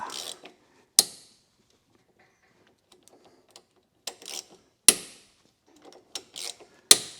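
A wrench works at a stuck bolt during car repair: sharp metallic clicks and clanks land in separate bursts with quiet gaps between them, close by and without talk.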